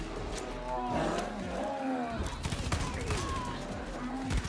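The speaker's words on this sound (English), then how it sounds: "Oh, a bear here." A bear roars in the video game Far Cry New Dawn, deep growling bursts mixed with sharp gunfire cracks and some game noise, fairly close and loud throughout.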